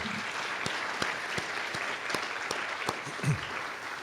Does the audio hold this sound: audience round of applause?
yes